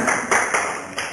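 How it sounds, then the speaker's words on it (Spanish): Church congregation clapping together during a worship service: a brief run of sharp, evenly spaced claps in a steady beat, close and fairly loud. "Denle un fuerte aplauso a Cristo."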